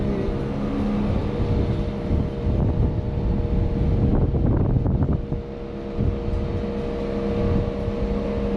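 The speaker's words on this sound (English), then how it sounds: "I have to apologise for the wind today" Steady low wind buffeting on the microphone in central London, loud and rumbling, with a stronger gusty burst in the middle.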